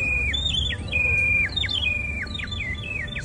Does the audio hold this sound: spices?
no